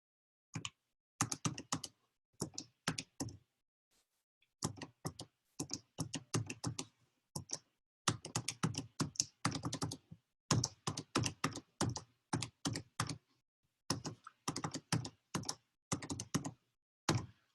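Computer keyboard typing while entering statistics data, heard as clear close bursts of rapid keystrokes separated by short pauses, steady and fairly quiet throughout with no talk.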